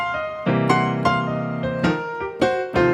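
Piano chords struck in a bluesy lick, several harmonized stabs in an uneven rhythm, close and clear with ringing sustain.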